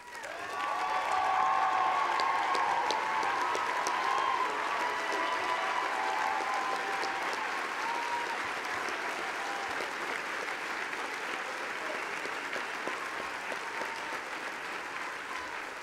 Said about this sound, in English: please stand so we can show your applause